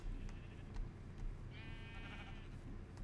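A Minecraft sheep gives one wavering, harmonic bleat partway through, fairly quiet over a low, noisy game background with no talking.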